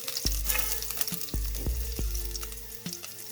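Shallots and ginger fry in a pan for a Kollam-style coconut fish curry, a steady close sizzle broken by a few sharp knocks and scrapes of a utensil against the pan, with no talk.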